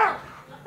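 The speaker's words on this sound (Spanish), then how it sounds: "Bueno, había un perro." A single dog bark at the start, followed by a second bark that starts right at the end, both short, fairly close and heard without talk.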